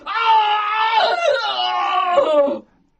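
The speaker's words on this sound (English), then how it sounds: "We heard some more terrible screams." Terrible screams in the darkness on a moor: one long, loud, wavering human scream lasting over two seconds, close and alone before ending abruptly.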